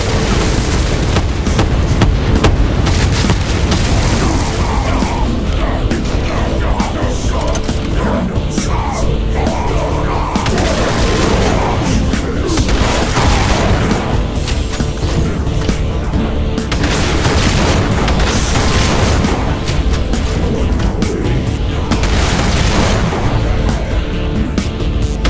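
Exploding barrels in Doom with the Project Brutality mod, loud continuous chaotic booms and blasts layered with gunfire and action noise throughout.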